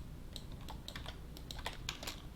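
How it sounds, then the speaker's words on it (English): Light clicking keystrokes on a computer keyboard during 3D car modeling work, a quick irregular run of crisp taps, close and fairly quiet with no talking. "I'm just hitting G on my keyboard to repeat the last tool."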